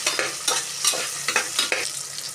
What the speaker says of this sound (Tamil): கீரை பச்சை மிளகாய் 2-4 எடுத்து போட்டு நல்லா வதக்கும்.